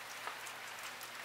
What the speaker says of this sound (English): it's starting to rain on me